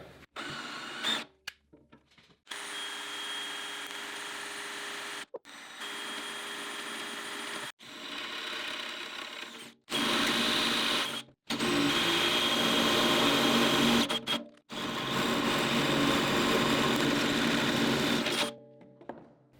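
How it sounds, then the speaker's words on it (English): A power drill whines in a series of bursts while boring a 3/4-inch hole for a bucket tooth bar install, running several seconds each, with short silent pauses between and a louder, grinding stretch midway. "Now that that hole is drilled to 3/4 inch"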